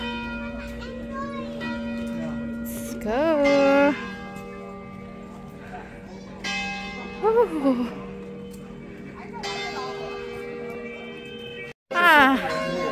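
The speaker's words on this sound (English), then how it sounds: "Bell is ringing." A church bell rings in a sustained, resonant series of tolls with long humming decay, heard outdoors near a flower garden while people, including children, talk over it.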